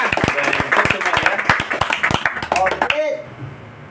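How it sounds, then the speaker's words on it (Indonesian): A crowd at a religious talk breaks into brief scattered clapping, sharp separate hand claps over a couple of seconds that then stop abruptly, leaving quiet room tone. "Tepuk tangan."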